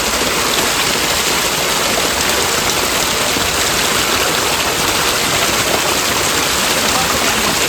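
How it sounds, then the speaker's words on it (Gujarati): Fresh water gushes steadily from a pipe into a village tank, a constant loud rushing spray that fills the whole clip without a break. "આમાં પાણી આવ્યું આમાં તો અસલ તાજું તાજું પાણી છે"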